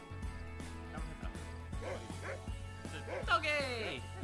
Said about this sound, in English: Doggy. Hello, dog.